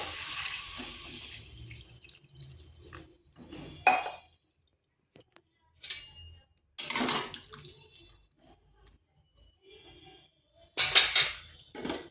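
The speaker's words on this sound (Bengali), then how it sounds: "এখানে দিয়ে দিচ্ছি জল।" Water splashes into a cooking pot during a vegetarian pumpkin-stem curry, in a few distinct pouring bursts separated by quiet gaps, with faint clinks of a vessel.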